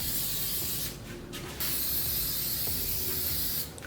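Wax and tar remover sprayed onto a BMW E36 engine bay being shaved and prepped for filler: steady close aerosol hiss running nearly continuously, with a couple of brief breaks and a slight surge partway through.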